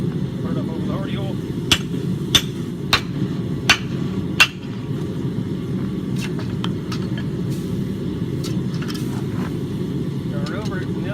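Several sharp, ringing hammer blows strike a drift set in a forged rounding-hammer eye on a striking anvil over the hardy hole, spaced at a steady rhythm over a constant low rumble, then a quieter stretch with faint clinks.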